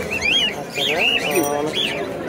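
Several caged pet birds at a market chirp and whistle in quick, rising and falling calls, close by, with a low background murmur.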